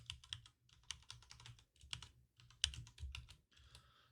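Someone types a login on a computer keyboard, a quick run of soft key clicks in short bursts, close and quiet, with brief gaps between groups of keystrokes.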